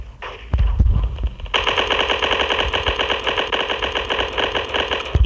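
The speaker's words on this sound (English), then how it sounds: "so you're gonna shoot." Automatic gunfire in the video game Block Strike, a long rapid burst of rattling shots firing in a steady stream after a few single shots, close and loud, no talk.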